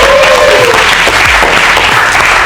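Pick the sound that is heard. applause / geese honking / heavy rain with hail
applause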